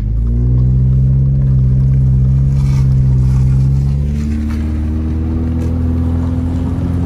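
A car drives across a dam on a snowy road in Big Bear, California, its engine a steady, loud rumble that shifts pitch as it travels, with no talk over it.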